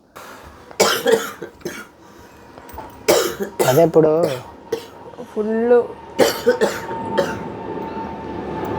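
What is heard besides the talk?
repeated coughing from throat infection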